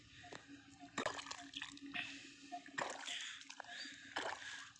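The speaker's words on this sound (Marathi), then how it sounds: "पाईपलाईन फुटलेली आहे वाटतं तिथं" Water gushes and splashes from a burst pipeline in a village, a wet irregular spattering with drips and surges.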